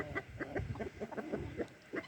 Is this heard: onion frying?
no